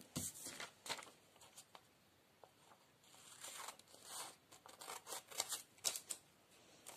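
Scissors snip off excess paper while making a paper Halloween table runner, a series of faint, quick, close crisp cuts and rustles in an otherwise quiet room.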